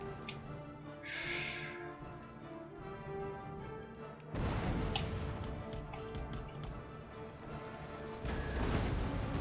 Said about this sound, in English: This cannon is loaded all the way up anyway, already.